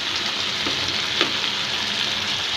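Round eggplant slices frying in a pan give a steady, close sizzle with continuous crackle and a couple of faint clicks, and no talk.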